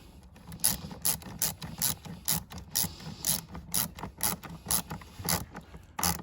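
Plastic screws on a Chrysler Pacifica air filter housing are tightened by hand tool, a close, repeated series of sharp ratcheting clicks in a steady rhythm, with light scraping between strokes.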